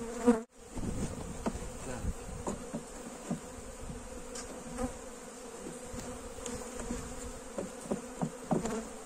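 Honeybees buzz close by at a hive being moved into a polystyrene body, a dense steady drone with individual bees zipping past the mic and a sharp knock near the start.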